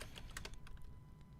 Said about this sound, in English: Okay, so this is what I want to type in.